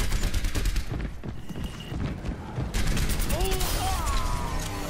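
Soldier: 76's rifle in Overwatch fires in rapid repeated bursts at the start and again in the second half, loud and steady, with other game effects and a brief voice mixed in.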